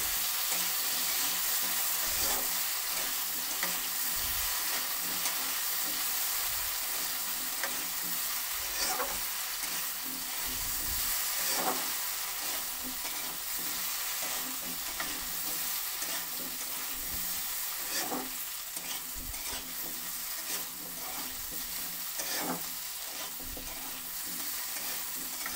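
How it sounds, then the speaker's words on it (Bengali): Potatoes frying in a pan are stirred for a Bengali pumpkin chhakka, a steady close sizzle running throughout with intermittent scraping stirs and soft clinks of the spatula against the pan. "এখন আলুটা ঢাকাটা খুলে নিয়ে আরেকবার নাড়াচাড়া করে নিতে"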